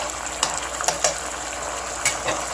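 Garlic frying in olive oil for a homemade vegan marinara sauce, with a steady close sizzle and a few sharp scraping clicks as it is stirred in the pan.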